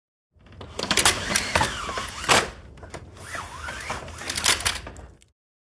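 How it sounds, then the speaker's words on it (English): Window blinds being opened and closed indoors: a dense rattling, whirring clatter of slats that swells and fades twice over several seconds, close and fairly loud with no voices. "That was the sound of us opening and closing our blinds."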